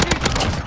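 A brief, loud burst of machine gun fire in a shooter game, evenly spaced rapid shots hammering close by for under a second.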